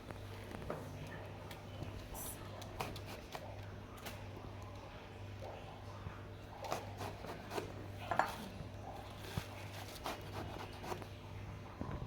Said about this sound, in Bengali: এই যে এইভাবে কাটবেন বেগুনটা এই যে কি সুন্দর করে কাটছি